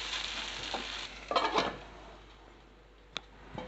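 Onions fry with ginger garlic paste in a pan, giving a soft, steady sizzle broken by a few short scraping stirs.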